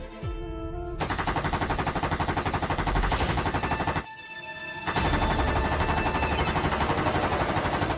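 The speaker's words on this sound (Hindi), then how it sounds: "लेकिन ये सरकारपुर है, यहाँ पे बंदूकें चलती है।" Guns fire in rapid sustained bursts, dense loud rattling volleys broken by a short pause near the middle, then resuming, with no talk.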